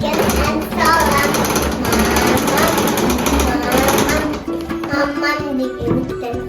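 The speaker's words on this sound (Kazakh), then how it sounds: "Мен сендерге қазір бастарына тақия тігіп беремін." A sewing machine stitching skullcaps whirs in a steady, busy drone at close range, while a child and an adult talk over it throughout.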